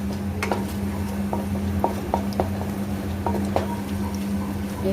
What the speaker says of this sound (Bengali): তেলটা গরম হয়ে গেছে, ফোড়নটা দিয়ে দিলাম।